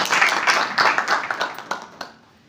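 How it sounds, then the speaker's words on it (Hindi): An audience at a Hindi comic poetry gathering in Haridwar welcomes a poet with a burst of close, lively clapping that turns into a few scattered claps before dying away. "भाई अमन शुक्ला का स्वागत कीजिए जोरदार तालियों से।"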